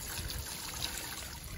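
Water poured into a Weber Smoky Mountain smoker, a faint, steady trickle and splash with no talk over it.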